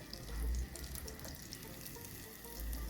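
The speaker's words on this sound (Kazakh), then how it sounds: "Барлық пирожкилерімізді дәл осылай қуырып аламыз." Pirozhki fry in oil with a quiet, even sizzle and a couple of soft low swells, with no talking.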